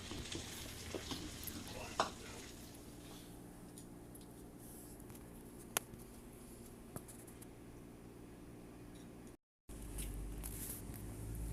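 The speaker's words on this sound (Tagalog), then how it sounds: "Yan, haluin ko lang po hanggang maluto ang sibuyas." Onion sautés in a pan for lechon paksiw, a low steady sizzle with occasional utensil clicks and scrapes as it is stirred, ending after a brief dropout in louder frying.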